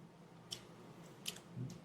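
Peach ring gummy candy with a solid sugar coating being chewed close up, a few soft squishy bites and faint crunches spaced apart over quiet background.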